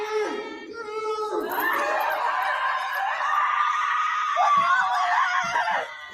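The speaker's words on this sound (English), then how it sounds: "this screaming is tough on my ears" Sustained, loud screaming fills a tense scene from the TV series FROM, one shrill voice rising and wavering over others with no break, cries growing more strained toward the end.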